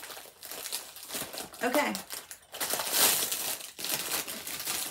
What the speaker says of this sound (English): they got this wrapped so tight, it'll take me till 2053 to unwrap it